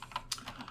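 Quick, light keystrokes on a computer keyboard, several taps spread over under a second with one sharper click, fairly close and faint, no voices.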